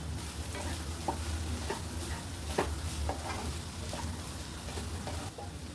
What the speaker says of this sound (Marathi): ओलं खोबरं खिचलेलं टाकूया मस्त मिक्स करून घेऊया